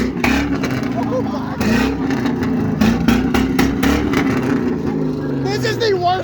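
A car with its exhaust removed idles loudly in a parking lot at night and is blipped in short bursts, a raw, droning engine rumble that rises and falls, with people talking and exclaiming over it.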